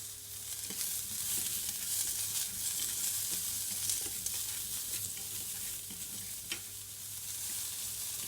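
Vegetables stir-fried with salt and white sesame seeds for a Japanese bento lunch, a soft, continuous pan sizzle with faint, occasional stirring taps, quiet and steady throughout.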